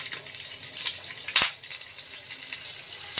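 Nigella seeds, green chilies and raw banana frying in hot oil: a continuous crackling sizzle at moderate level with a sharp spatter burst partway through, no voices.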